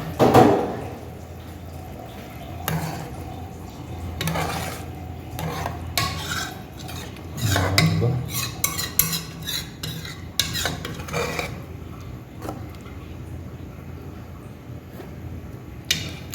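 A spoon stirs fish curry in a pot, giving a long stretch of scraping, swishing strokes in uneven bursts, close and moderately loud, with no talk over it.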